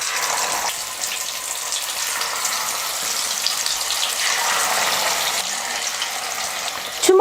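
Fish frying in oil over a moderate flame, a steady, close, dense sizzle that holds evenly throughout, swelling slightly toward the end with no one talking.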